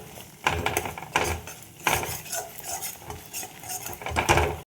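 Cashews, melon seeds and sesame paste stirred in a pan for chicken kofta, with a spoon scraping and clinking against the metal in repeated strokes, close and fairly loud, over a soft sizzle.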